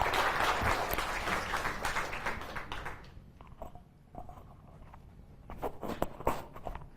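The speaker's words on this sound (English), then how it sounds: "So let's give Jenny a great round of applause." An audience applauds at an oak wilt symposium on Long Island, a dense burst of clapping that tapers off after a few seconds into scattered claps, shuffling and footsteps.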